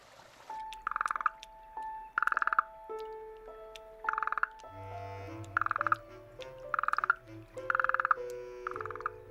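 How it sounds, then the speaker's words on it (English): Repeated short, bright calls of an Australian burrowing frog pulse at a steady pace, about one a second, over low resonant tones and faint background hum. "the burrowing frog awakes from its long sleep"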